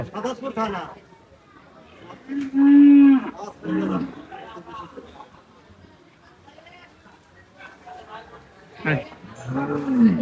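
Cattle low a few times at an open-air cattle market in Siddhirganj, one deep moo early and another near the end, amid close chatter from people nearby.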